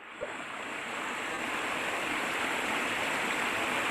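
A steady, full roar of rushing water from Kawa Kawa Falls in Bislig City fills the whole clip, constant and close, with no voices.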